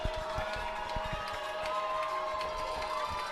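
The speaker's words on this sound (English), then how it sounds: "This crowd really getting into it now." Football crowd at a varsity game against LaSalle College, cheering and shouting steadily after a touchdown, a continuous dense roar with scattered claps and whistles throughout.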